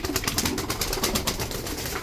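Tumbler pigeons flying, a dense rapid flutter of wingbeats with faint cooing, steady and close, no voices.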